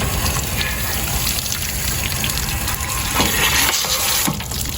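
Water sprays forcefully inside an RV fresh water tank to flush out sediment, a dense, steady gushing and splashing that stays loud and continuous throughout, with no voices.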